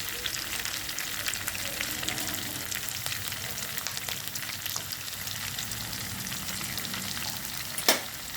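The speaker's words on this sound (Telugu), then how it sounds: "సో వీటిని బాగా వేయించుకోవాలి." Curry leaves and ginger garlic paste frying in a pan for drumstick curry, with a steady close crackling sizzle throughout and one brief sharper spatter near the end.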